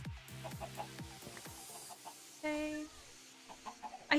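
A Minecraft chicken gives several short, soft clucks in a quiet game scene, with a brief spoken word and a few faint game noises between them.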